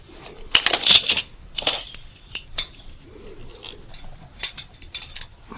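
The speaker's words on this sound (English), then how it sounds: "measure 18 inches of yarn and cut it off" Scissors cut yarn for knitted slippers, with a few crisp snips and clinks up close, some louder clusters early on and quieter scattered handling noises after.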